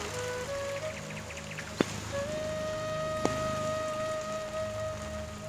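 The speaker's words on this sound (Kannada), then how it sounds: "ಅತಿಯಾದ ಮಳೆ ಬೀಳ್ತಿರೋ ಜಾಗ" Heavy rain pours steadily at Thirthahalli in Karnataka, in a dense, unbroken hiss, with a few faint tones ringing through it.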